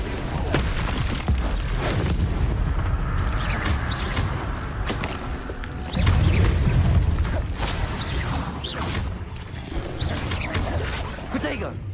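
Fiery Confringo and Incendio spell blasts in the video game Hogwarts Legacy, dense rumbling bursts and whooshes layered with mechanical clatter, one heavier boom midway, loud and continuous under speech.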